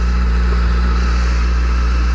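A motorcycle engine idles steadily through a cold winter warm-up, a loud, close, continuous mechanical drone with a constant low rumble and no talking.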